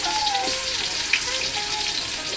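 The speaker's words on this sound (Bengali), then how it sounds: "গরম তেলের মধ্যে পেঁয়াজ কি ভেজে নিবা?" Onions frying in hot oil for bhuna khichuri give a steady, close crackling sizzle with bright spitting pops throughout, while a person talks over it.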